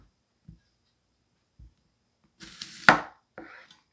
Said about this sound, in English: Let's chop off another piece here.